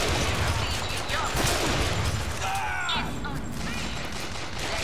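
Gunfire rattles through a firefight in the video game Bioshock Infinite, dense overlapping shots forming a steady loud barrage with game sounds layered in.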